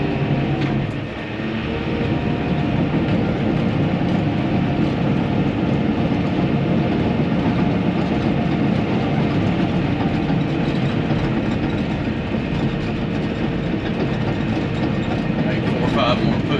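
Heavy bulldozer engine drones steadily and loudly throughout, pushing dirt across a horse arena, a continuous low rumble with a mechanical rattle and no pauses.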